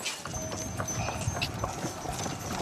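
Hooves clip-clop at a steady walking rhythm on a hard surface, fairly quiet, with light ambient background noise.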